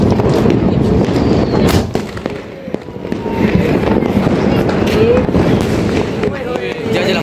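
Diwali firecrackers and fireworks going off outdoors in Patel Nagar, giving a dense, continuous crackle of sharp bangs and pops that is loud and close, with people talking underneath.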